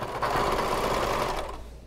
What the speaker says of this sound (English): I'm going to take the other pocket side and sew this side of the bottom